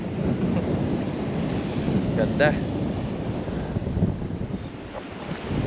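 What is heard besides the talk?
strong wind and waves at the seaside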